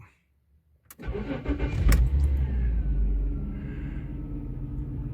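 After a second of near silence, a Jaguar XJ6 engine cranks briefly and catches, then settles into a loud, steady rumbling idle close by.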